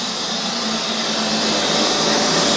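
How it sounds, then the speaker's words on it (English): A Neato Signature XV Pro robot vacuum cleaner, a year into use, runs in a dark room with a steady, loud, close whirring motor hiss and no pauses or talking. "The hoover goes all the way around and does a pretty fine job."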